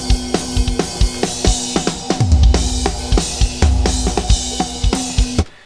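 Drums after an Adobe mastering effect play a punchy, full beat of kick, snare and cymbal hits with a heavier low-end swell midway, loud and alone for several seconds.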